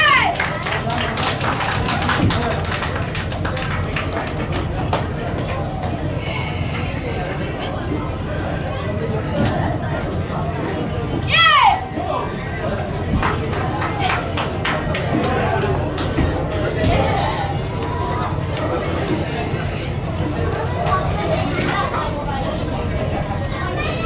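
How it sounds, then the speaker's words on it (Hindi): Steady applause from a live audience at a season two stage show, dense tapping and clapping with crowd chatter throughout, sustained and fairly loud with a brief bright whistle-like burst midway. "जोरदार तालियां हो जाए ना यार।"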